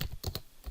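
A computer keyboard is typed on nearby, a few quick key clicks in a short burst.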